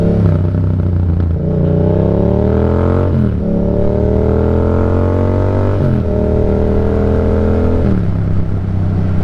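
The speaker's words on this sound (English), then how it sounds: "I just wanted to kind of show you what it's like to ride the bike with all the upgraded stuff on it" A motorcycle fitted with an upgraded aftermarket exhaust and other performance upgrades accelerates hard through the gears, loud and close-up, its engine note climbing in repeated revving sweeps with brief drops at each shift.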